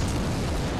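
An explosion from a bomb thrown by a giant in the Dark Souls game, a loud, dense, broadband burst that fills the short moment, close and with no talking.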